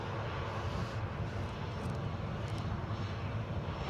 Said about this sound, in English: And we've also got the Norwegian 737